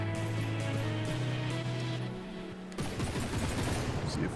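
Rear turret gunfire from a vehicle in a video game, dense rapid shots forming a continuous rattle over a steady engine drone, loud and close.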